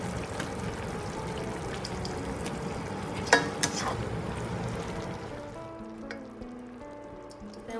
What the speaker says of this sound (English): So now we can put our tofu in.